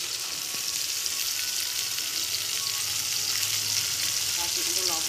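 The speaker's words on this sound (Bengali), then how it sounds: "নেওয়ার পরে এখন মশলাগুলো দিয়ে দেবো। জিরা বাটা, আদা বাটা," Ground cumin, ginger and chilli pastes frying in hot oil, a constant soft crackling sizzle with a few faint stirring scrapes, low in level, with no one talking.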